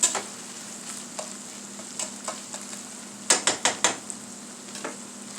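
Fiesta and cheddar cheese being stirred together in a bowl, giving soft faint scraping and a quick cluster of sharp utensil taps near the middle, with no talking.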